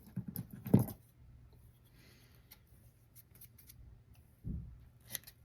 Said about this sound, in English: before that, we're going to do some more trimming.